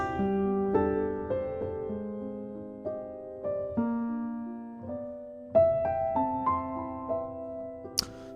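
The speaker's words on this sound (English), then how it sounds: "This is Alice and Wonderland piano" An Alice in Wonderland virtual piano instrument playing a slow, soft melody of sustained single notes and light chords with long ringing decays, close and clean, no talk over it, ending on a brief bright high accent.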